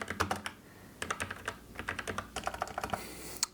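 Fingers typing on a computer keyboard, close and fairly quiet, in uneven bursts of quick clicks with short pauses between words.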